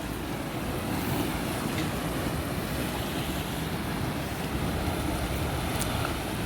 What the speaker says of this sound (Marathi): ज्या लाटा येत आहेत तर त्या या खडकांवर आपटत आहेत